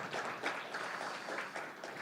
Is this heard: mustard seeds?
no